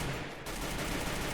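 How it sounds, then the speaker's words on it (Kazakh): Rapid gunfire crackles between two players in an online battle royale shooter, a dense, continuous burst of distant shots with no voices. "мына жерде екі адам атысып жатыр екен"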